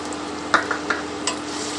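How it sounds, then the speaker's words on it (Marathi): Maharashtrian kartule (spiny gourd) bhaji with peanut powder and grated coconut is stirred in a pan. A few soft spoon scrapes and clinks sound over a faint, low sizzle. "छान मिक्स करून घेऊ आपण आता हे सर्व साहित्य"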